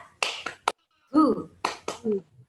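A group doing a rhythmic Indonesian clapping cheer (tepuk semangat) during a kindergarten school-year orientation, sharp claps in quick bursts and patterns alternating with short shouted calls from voices.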